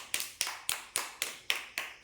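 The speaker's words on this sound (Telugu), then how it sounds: "కొట్టాలి క్లాప్స్" Children clap their hands in a steady rhythm, about eight sharp, even claps close by in a room, with no talking over them.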